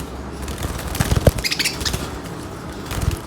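Parrots flap their wings in a cage or aviary, giving short bursts of close fluttering with a few brief chirps, the wingbeats clustering in the middle and again near the end.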